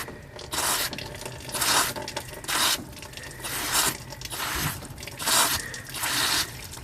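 Water draining in pulsing bursts while a Mitsubishi Lancer radiator is flushed, an uneven run of splashing gushes and drips, fairly close and moderately loud, with no voices.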